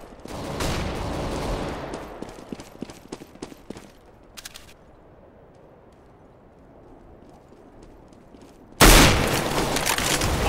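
Gunfire and a flashbang in the shooter game CS:GO: rapid clicking shots and footsteps early on, a quieter stretch, then a sudden loud burst of the flashbang ringing that holds to the end.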